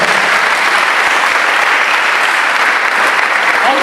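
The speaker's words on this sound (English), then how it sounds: "Let's give them a round of applause." Sustained applause from an audience at a national schools quiz media launch event, dense steady clapping filling the whole span at close range, with faint voices mixed in.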